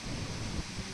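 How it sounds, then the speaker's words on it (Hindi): Strong wind gusting during a night thunderstorm in Delhi-NCR, a steady rushing roar with a brief louder gust midway, no voices heard. "तस्वीरें देखिए किस तरह से तेज हवाओं के साथ आंधी और तूफान दिल्ली एनसीआर ने रात को देखा है।"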